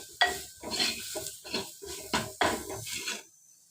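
Boiled prawns and potatoes being stirred and roasting in a pan for a coconut-free theeyal, with a quick run of scraping, clinking strokes over a light sizzle, close and fairly loud.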